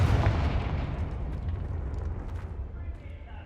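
A Confringo blasting spell explodes in the Hogwarts Legacy video game, a loud booming burst with a low rumble that slowly fades over a few seconds. Talk is mixed in with the blast.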